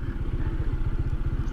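Honda ADV 160 motorcycle engine heard while riding, a rapid, pulsing low putter with a clattery edge, steady and moderately loud, with no voices.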